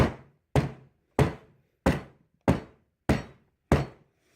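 A mold of oatmeal, milk and honey soap is banged down on a hard surface seven times at an even pace, each thud close, loud and sharply struck, with short pauses between and no talking.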